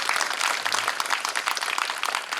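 An audience at an evening church gathering claps together in a dense, even burst of many hands, close and lively, lasting a couple of seconds without pause.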